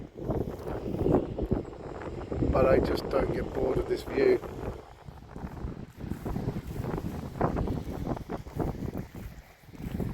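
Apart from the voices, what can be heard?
wind blowing by the water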